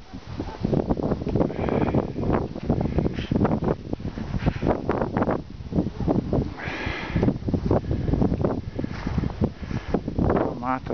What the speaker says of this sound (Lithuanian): bet vėjas stiprus.